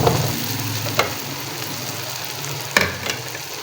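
Masala and keema sizzle in a frying pan while being stirred for a kachnar keema dish, a steady close crackle with a few sharp scraping clinks of the spoon against the pan, no talk.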